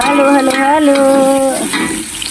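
Food frying in a home pan with a little dried fish is stirred, giving a soft sizzle and scraping. A sustained, humming voice sits over the first part.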